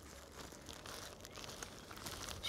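A plastic bag crinkles and rustles as it is handled, soft irregular crackling close by and fairly quiet, growing a little louder toward the end.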